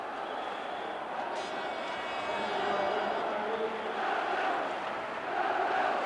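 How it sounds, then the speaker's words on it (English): Basketball arena crowd at the 1989-90 Recopa final between Knorr Bologna and Real Madrid, a steady, distant roar of cheering and shouting filling the hall without a break. "Just listen to that crowd."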